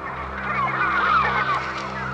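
A flock of migrating birds honks in a loud, overlapping chorus of goose-like calls over a steady low hum. The calls are continuous and fairly close, and no one speaks.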